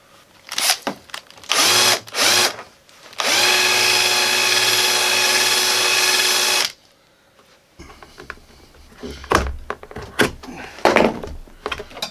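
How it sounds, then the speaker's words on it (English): A power drill with a countersink bit whines in several short bursts drilling out rivets on a VW Eos door card, then one long sustained run, followed by clunks and handling noises nearby. "I'll drill those out"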